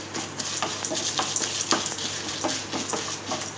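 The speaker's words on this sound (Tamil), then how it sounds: "முந்திரி பருப்பு இதிலே சேர்த்துக்கிறோம் அந்த இது செவப்பாகிறதுக்கு முன்னாடியே வந்து கொஞ்சம் சேர்த்துருங்க" Cashews and chana dal fry in homemade ghee for South Indian coconut rice, giving a moderate, close crackling sizzle broken by frequent small clicks and taps of stirring.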